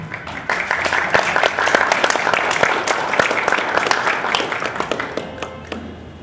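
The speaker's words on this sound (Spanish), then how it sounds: "Recibimos un fuerte aplauso." Audience applause at an academic history colloquium in Lima, loud and sustained, with a dense patter of many hands clapping at close range for several seconds, no speech over it.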